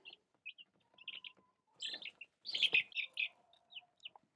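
Baby chicks peep and chirp in short, high bursts close by, with brief quiet gaps between the calls.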